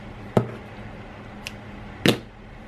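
Knitted work from a knitting machine snipped with scissors: two sharp, close cuts about two seconds apart, with a fainter click between them, over quiet room noise.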